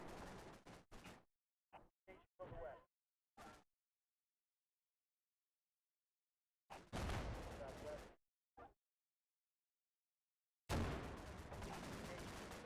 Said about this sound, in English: that may be the end of that barrage